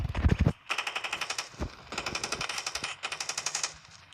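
Automatic M4 rifle fire in the mobile shooter Standoff 2, several sustained rapid bursts of close, loud shots with short pauses between them.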